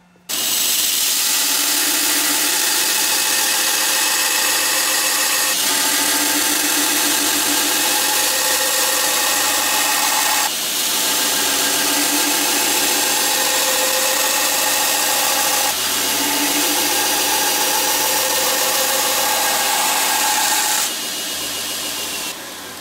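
Steady, loud abrasive grinding of knife bevels on a Damascus steel blade at 36 grit, running continuously for the whole stretch with short dips where the blade is lifted and reset.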